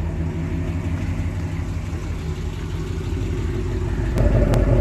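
A 2018 Ford Mustang GT with aftermarket exhaust idles nearby, a steady low rumble with a faint rise in loudness at the end, heard alone.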